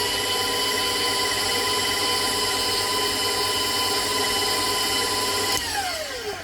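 A loud stand mixer motor whirs steadily as it kneads cinnamon roll dough, holding a constant pitch before winding down near the end, with no talking.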